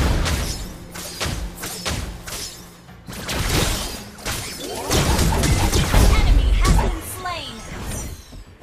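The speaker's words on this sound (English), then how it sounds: "Our turret has been destroyed." A defensive turret being destroyed in Mobile Legends, heard as a run of heavy crashing thuds and impact bursts that swell into a loud, dense rumble mid-clip, with a game voice over the action.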